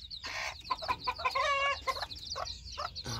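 Backyard chickens, a silver duckwing and a red hen, clucking in short close bursts and trilling calls, fairly quiet and without talk.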